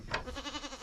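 A goat bleats up close in a short, wavering cry with a quick series of pulses.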